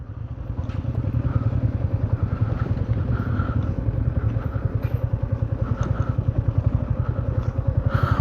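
Motorcycles rumble up and idle in the parking area at a Purulia hobbit-house style stay, a loud steady engine throb with clatter, close and continuous.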